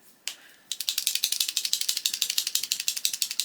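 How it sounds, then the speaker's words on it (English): A desk rattles under the pressure of colouring in a pencil-and-paint tutorial, giving a fast, steady run of sharp clicking ticks after a brief softer scrape, close and fairly loud. "So I'm rattling the whole desk."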